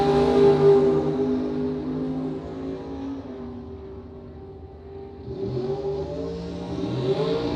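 A 1970 Camaro drag car engine at a bracket drag race roars and revs, loud and steady, dipping midway before climbing again with rising pitch, no voices over it.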